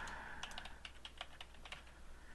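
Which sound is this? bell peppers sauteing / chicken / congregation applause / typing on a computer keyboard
typing on a computer keyboard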